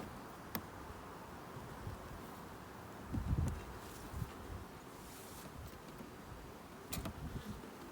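Honey bees buzz faintly and steadily around an outdoor beehive, a low continuous hum broken by a few soft thumps and brief wind rustle.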